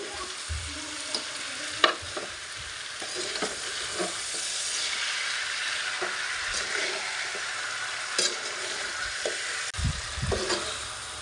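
Jaggery is stirred into chalta (elephant apple) pickle in a pan, giving repeated close scrapes and soft clunks of a spoon over a constant bubbling sizzle, with no speech.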